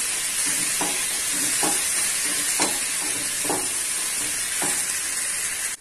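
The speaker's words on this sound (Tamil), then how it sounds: "தக்காளி சேர்த்து ஒரு 1 நிமிஷம் வதக்கிடலாம்" Tomatoes sautéing with half-cooked onions in a pan for a mixed vegetable gravy, a loud continuous sizzle with regular spatula strokes scraping the pan every second or so, no speech.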